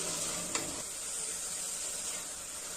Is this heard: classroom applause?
no